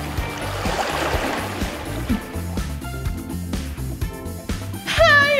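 Whooshing, splashing water effect for a water-breathing sword attack in a Demon Slayer-style animated skit, a loud continuous rush of flowing water with a bright swirling flourish near the end.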